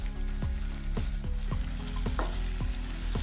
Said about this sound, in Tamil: தக்காளி நல்லா வதங்கிடுச்சு.